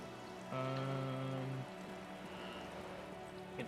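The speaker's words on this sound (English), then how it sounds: "All around you, rain falls on the great city of Revachol" Soft rain patters over the city of Revachol in the Disco Elysium video game, a faint, steady hiss of drops, with a brief sustained musical tone early on.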